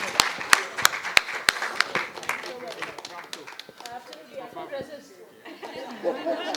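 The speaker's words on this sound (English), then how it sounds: "I think another round of applause is necessary" Scattered clapping from a birthday celebration audience starts with sharp individual claps and thins out under chatter and voices, fading into murmured talk toward the end.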